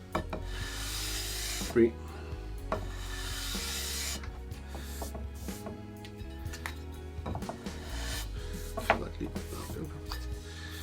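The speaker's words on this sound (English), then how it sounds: "320 grit sandpaper, and it took me just a couple of passes" 320 grit sandpaper rubs over an aluminium dragon inlay set into a guitar body, making steady close scraping and rasping strokes with a few sharper knocks, while a voice briefly speaks.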